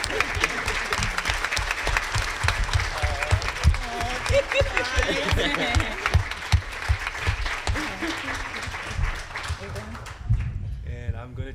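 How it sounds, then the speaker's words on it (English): A conference audience gives a big round of applause for apprentices after a panel, sustained loud clapping with people talking and calling out over it before it fades near the end. "can we give these individuals a big round of applause?"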